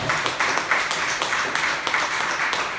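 A church congregation applauds after a sermon: dense, continuous clapping from many hands filling the room evenly, with no clear talking over it.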